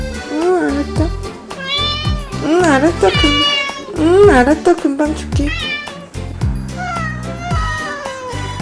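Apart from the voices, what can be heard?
cat meowing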